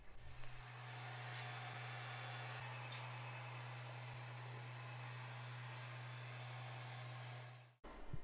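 A Lefant M5 Pro robot vacuum hums steadily as it cleans the floor and passes over rubber mats under a bunny's pen, a constant low drone with a whooshing airflow hiss that starts after a brief pause and cuts off near the end.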